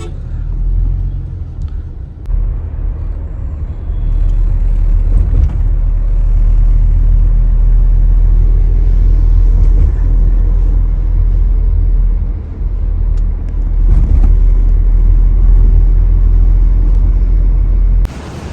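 A cab rolls through city traffic, its engine and road noise forming a loud, continuous low rumble inside the car, with faint voices beneath it.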